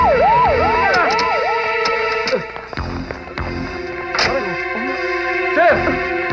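A police siren from a 1992 Filipino comedy film wails in repeated rising and falling sweeps, loud and close, with shouting voices and other noise mixed in.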